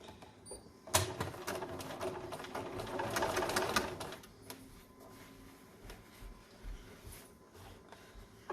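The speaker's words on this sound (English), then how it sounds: "And sew it again." A sewing machine stitches a concealed-carry belly band, a steady mechanical whir running for about three seconds and then slowing into lighter ticks and clicks.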